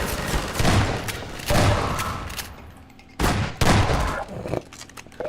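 Repeated shotgun blasts in the Half-Life 2 video game, a few loud booming shots spaced about a second or more apart, each followed by a short decaying rumble, with no voices.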